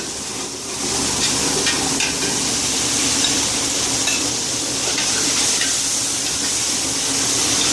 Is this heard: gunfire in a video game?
no